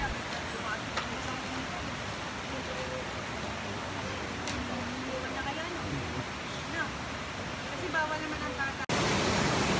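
A mountain waterfall, Ditumabo Mother Falls in San Luis, Aurora, roars as a dense, steady rush of falling fresh water, loud and constant throughout, with a sudden harsher burst near the end.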